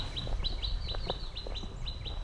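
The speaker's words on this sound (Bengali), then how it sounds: "এই পাখির আওয়াজ" Birds chirp repeatedly in quick high-pitched notes over low background rumble, a series of short tweets close by in a forest.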